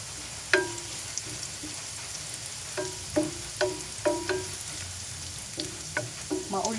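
Eggs fry in a pan until golden brown, a low steady sizzle broken by sharp clinks and pops, some in quick runs of several. No one speaks.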